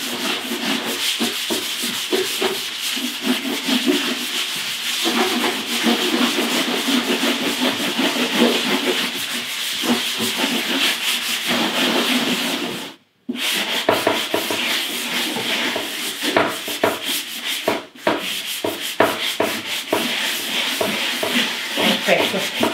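Fine-grit sandpaper rubs over a painted chair seat in a steady, close, scratchy rasp that goes on with only two brief pauses, and no one talks over it.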